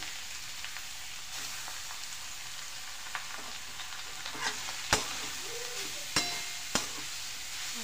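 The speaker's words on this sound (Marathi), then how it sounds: "हे बघा, आता तूप गरम झालेले, त्यात आपण किस घालू" Grated carrot frying in hot ghee, a dense continuous sizzle with occasional sharp clinks and scrapes of stirring, close and steady, with no voices.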